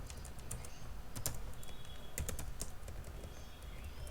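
Steady keyboard typing while entering float-left CSS code in a JavaScript and ReactJS programming lesson, a run of quick close key clicks with a few sharper taps, heard alone without speech.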